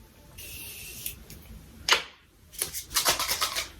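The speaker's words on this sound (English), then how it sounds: "That was the Morphe Continuous Spray." Morphe Continuous Spray setting spray misted toward the face in several quick bursts: a longer soft hiss, then a brief close puff, then a rapid run of short, crisp sprays.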